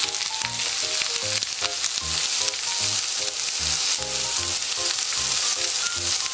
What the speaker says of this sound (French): Je fais un petit mix. Carottes, courgettes. Tout simplement à la poêle.